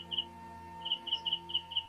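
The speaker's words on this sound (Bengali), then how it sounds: "এত পাখি দেখে মন ভরে গেল পাখিদের কলকাকলিতে" Short, high chirps of migratory birds across a river repeat in quick bursts over a steady low hum, fairly faint and sounding some distance away.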